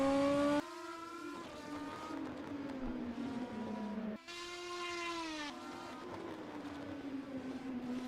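BMW Challenge race cars roar through a turn at the Dijon-Prenois circuit, with engine notes climbing and then sagging as the cars pass in two close bursts. No voices are heard.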